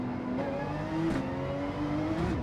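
A Porsche race car engine in a racing video game, revving with a steady whining drone. The pitch climbs and drops through quick gear changes, with brief rises around the one-second and two-second marks.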